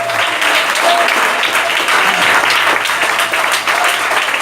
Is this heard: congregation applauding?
yes